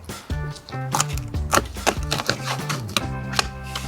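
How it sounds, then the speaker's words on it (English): A knife cuts down through a fresh-caught sea bass just behind the head, making a series of crisp, close chopping and crunching strikes over steady background music. "So grab your knife, cut it all the way down."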